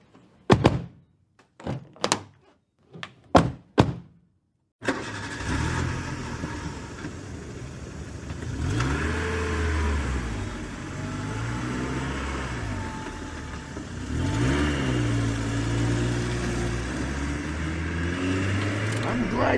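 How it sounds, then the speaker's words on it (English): Old-time radio show sound effect of a car: a few heavy door thunks, then an engine turns over and runs steadily, revving and pulling away in smooth rising and falling swells for the rest of the clip. "I'm glad you're driving this time, Pudgy."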